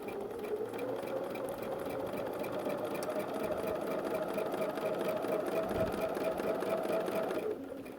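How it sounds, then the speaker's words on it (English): Sewing machine stitching a quilt along a ruler, a continuous steady whirring hum with fast regular needle ticks at constant speed, running alone until it eases off just before the end. "And I will just sew out."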